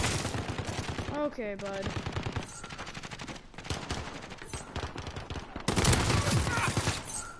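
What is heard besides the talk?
gunfire in Call of Duty Modern Warfare video game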